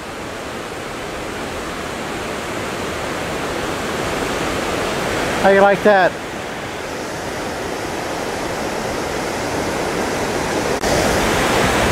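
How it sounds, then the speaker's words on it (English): Waterfalls pouring across the Snake River in Idaho, a constant loud broadband rush of falling water that fills the whole stretch, with a brief spoken remark in the middle. "with all of those waterfalls right across the river"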